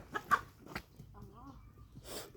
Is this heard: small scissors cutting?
no